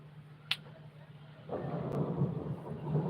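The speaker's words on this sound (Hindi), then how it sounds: "देखो भगवान भी आ रहे हैं, बहुत तेज लग रहा है, गरज रहे हैं बहुत बड़ी।" Thunder rumbling during a storm, a low roll that swells halfway through and stays loud to the end, with a couple of sharp clicks early on.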